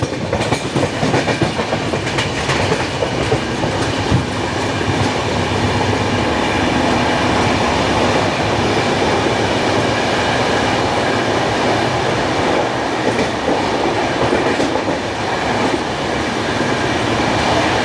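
Howrah–Bangalore SF Express (12863) picking up speed in fog near Uluberia, a loud continuous rumble of wheels on rails with rhythmic clickety-clack and occasional squeal, heard close from aboard without voices.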